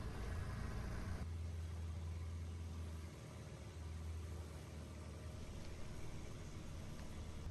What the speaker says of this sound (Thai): นั่งเรือหางยาวที่ทางรีสอร์ทส่งมารับเพื่อเดินทางอีก30นาทีเข้าสู่โรงแรม